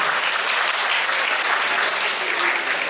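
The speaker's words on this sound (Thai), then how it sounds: "ขอเสียงปรบมือดังๆให้คู่บ่าวสาวของเรา" Wedding guests at a hotel reception applauding the bride and groom, a dense, loud, continuous wash of clapping from a large crowd with no gaps.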